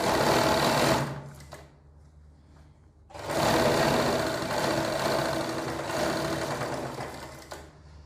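A sewing machine stitching a collar runs in two fast, loud bursts separated by a short pause, its rapid needle clatter steady and close, with no talking over it.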